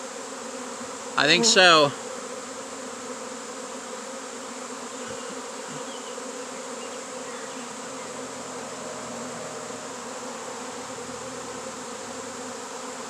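A honeybee swarm fanning and landing outdoors gives a faint, steady insect hum throughout, with a brief voice speaking near the start.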